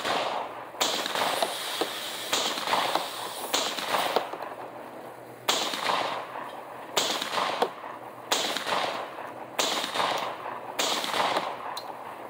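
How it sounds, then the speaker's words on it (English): A Panzer Arms M4 shotgun fires nine rounds in a series of loud, sharp blasts with brief uneven pauses between them, each shot followed by a short echoing tail outdoors. "First 9 rounds went off without a problem, as I expected it to."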